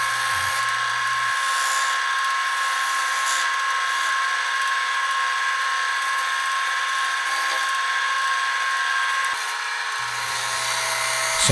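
A wood lathe turns a natural-edged green apple wood bowl, giving a steady mechanical hum with a constant tonal whine. A low rumble drops out early on and returns near the end, and no one speaks.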